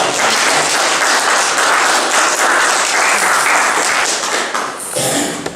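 A church congregation claps and applauds steadily, a loud dense wash of hands that carries on for several seconds before tapering at the end.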